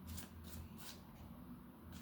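A deck of cards being shuffled, a close, quiet riffling flutter running steadily for a couple of seconds with no talk over it.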